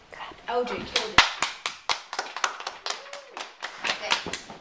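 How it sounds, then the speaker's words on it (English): Several people clap their hands in quick, uneven bursts during a trivia game, sharp close claps with cheering voices mixed in around them. "Clap."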